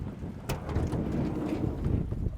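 Gusty wind from a Texas wind storm buffets the microphone in a low, continuous rumble, with a sharp knock near the start, near a camping van.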